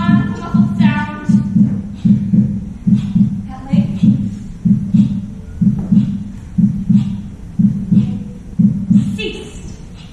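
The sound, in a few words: muffled heartbeat sound effect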